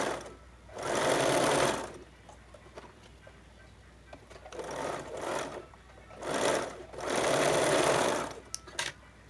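An electric sewing machine stitches the shoulder seam of a kurti in several steady whirring runs of one to two seconds, separated by short pauses, close and fairly loud.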